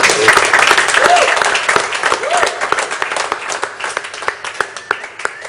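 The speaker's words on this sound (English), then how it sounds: "Give it up for the round of applause." An audience at a rap battle event claps and cheers loudly, a dense roar that thins into scattered individual claps toward the end, with voices calling out over it.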